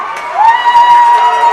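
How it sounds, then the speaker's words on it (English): A high school football crowd at Fond du Lac roars loudly during a Kaukauna game, sustained cheering and shouting swelling near the stands with one long, high yell carrying above it. "as the crowd gets loud here in Fond du Lac"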